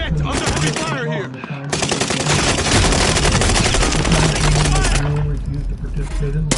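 Heavy automatic gunfire in the shooter Warzone, loud bursts of machine-gun fire packed close together, with game voices speaking over the shooting and a brief gap before it resumes.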